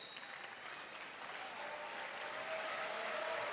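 Applause from the crowd at a men's college wrestling dual between Iowa State and Stanford, a steady, moderately loud wash of clapping that holds throughout with no talk over it.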